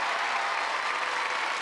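A television studio audience applauds a returning entertainer on a French variety show in 1992, a dense, steady wash of many hands clapping at even loudness throughout.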